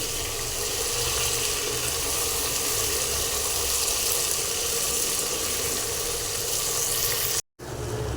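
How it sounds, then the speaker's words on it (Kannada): Onions and tomatoes frying in a pan for chicken biryani give a steady, continuous sizzle with a watery hiss, fairly close and even throughout, broken by a brief silent gap near the end. "ಆನಿಯನ್ನು ಟೊಮೆಟೊ ಕೂಡ ಸ್ವಲ್ಪ ಬೇಯ್ತಾ ಇದೆ."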